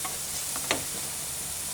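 Peppers hit a hot frying pan for bagel fillings, a soft steady sizzle with a brief stirring scrape partway through.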